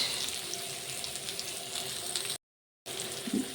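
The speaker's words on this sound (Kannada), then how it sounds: "ಈಗ ಇಷ್ಟು ಮೀನನ್ನು ಹಾಕಿದ್ದೇನೆ. ಇದು ಮೀಡಿಯಮ್ ಫ್ಲೇಮಲ್ಲಿ ಈ ಥರ ಫ್ರೈ ಆಗ್ತಾ ಇರಲಿ." Black pomfret fish fries in a pan over a medium flame, giving a steady, moderate sizzle that drops out briefly before resuming with small crackles.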